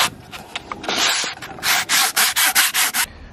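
A plastic car grill is sanded by hand, with scattered short rubs giving way to a run of loud, regular back-and-forth strokes, close and alone.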